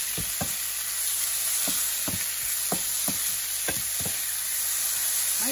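Thai holy basil stir-fried with chili and pink salt in oil, a loud constant hiss of frying with regular knocks and scrapes of the spatula against the pan about every half second.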